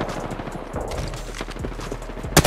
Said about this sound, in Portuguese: E esse tiro tava tendo em cima de você?